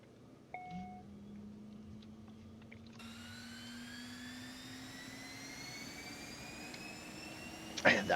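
Number 2 engine spooling up on an airliner in the X-Plane 11 flight simulator, a steadily rising turbine whine over a low rumble that builds gradually, with brief cockpit clicks.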